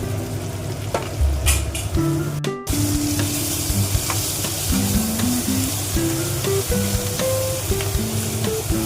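Potatoes fry with turmeric, salt, garlic paste and ginger paste in a pan, a steady close sizzle with scraping stirs and occasional clinks that runs unbroken, no voices over it.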